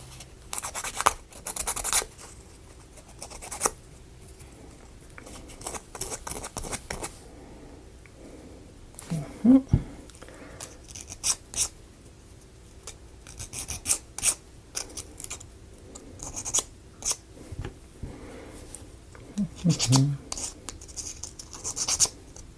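A part from a wooden ROKR pendulum clock kit is rubbed with sandpaper by hand in short, uneven bursts of close scratchy strokes, broken by pauses and small handling knocks.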